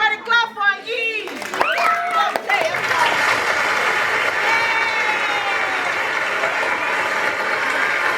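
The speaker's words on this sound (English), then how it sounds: "Everybody clap for Yee." Guests at a first birthday party break into applause, a dense sustained round of clapping that follows brief talk at the start.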